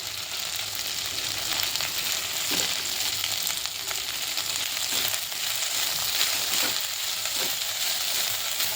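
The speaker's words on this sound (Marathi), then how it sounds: "तर आता मी प्रथम इथे भेंडी भाजून घेते" Okra (bhindi) frying in oil in a pan gives a constant close sizzle and hiss, with a few soft stirring scrapes and bumps, nobody speaking.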